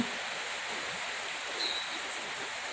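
Steady broadband hiss of rain falling outdoors during a dark, wet spell, continuous and fairly even with no voices, close and enveloping.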